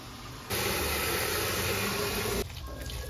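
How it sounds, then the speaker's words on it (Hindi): Water poured onto potted plants, a steady rushing splash lasting about two seconds, close and loud over a quieter background hiss. "मैंने कहा मैं ज़रा पौधों को पानी दे दूं"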